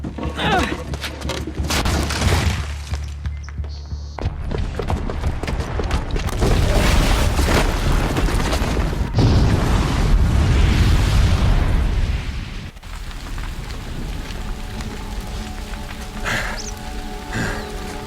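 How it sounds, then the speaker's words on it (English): Booby-trapped bomb blowing up in Horizon Zero Dawn: a dense, roaring blast with rumbling debris that swells and sustains for several seconds before cutting to quieter ambience, loud and close. "the booby trap on the bomb downstairs is gonna get set off"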